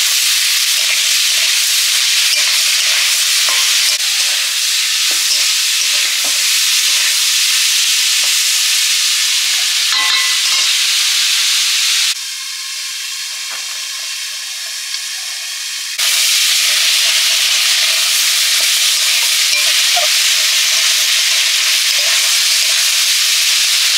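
Fish fat, eggplant and potato frying in hot oil, a steady loud sizzle with occasional stirring, easing to a quieter hiss for a few seconds before the full sizzle returns.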